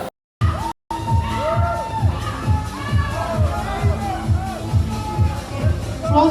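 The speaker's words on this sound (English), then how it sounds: "Round of applause." A crowd at a physique bodybuilding contest in Ireland cheers and shouts loudly and continuously, with rhythmic chanting and whoops over a pulsing beat, after a brief cut near the start.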